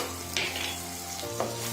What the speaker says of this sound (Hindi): और इसे अब अच्छे से भून लेंगे फ्रेंड्स